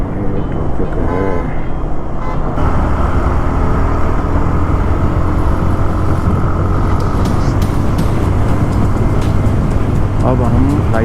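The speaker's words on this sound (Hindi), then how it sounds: "अरे भाई ये ट्रैफिक है।" Dense road traffic on a route toward ISBT in Delhi, heard from a moving motorbike: a loud, steady engine and road roar with car horns tooting repeatedly, someone talking over it at times.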